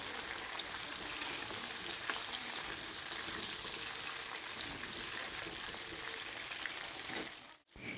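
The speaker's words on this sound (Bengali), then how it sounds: "এবার আলু কুমড়োগুলো একসাথে মিশিয়ে একটু সময় নিয়ে ভেজে নিতে হবে।" Chopped potatoes and pumpkin fry together in a pan, giving a constant soft, fairly quiet sizzle with faint crackles that dips briefly near the end.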